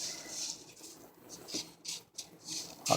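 Black seed being poured into a seed grinder, giving soft, close, irregular bursts of pattering grains with quiet gaps between pours and no talking.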